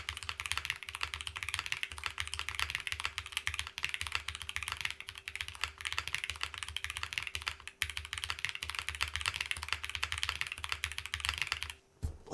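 Fast, continuous typing on a Photon wireless mechanical keyboard with injection-molded plastic case, crisp close keystrokes clattering steadily for about twelve seconds.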